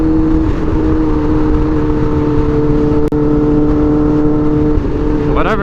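A black McLaren drives past outdoors; its steady engine drone blends with the hum of other traffic, with a brief sharp transient partway through and a rising whine near the end.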